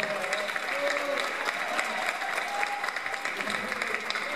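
Steady applause from an audience at a live album presentation in Capilla del Monte, honoring an accordionist; dense, continuous clapping fills the whole stretch with some faint crowd voices beneath.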